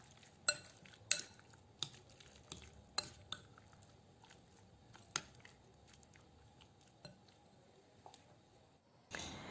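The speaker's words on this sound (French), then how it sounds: "j'ajoute un peu de sel et poivre et je mélange" Chicken fillet being mixed with salt and pepper: soft intermittent clicks and wet squelches as a utensil or hand works the meat, roughly a dozen sharp taps spaced irregularly, fairly faint and close with no talking.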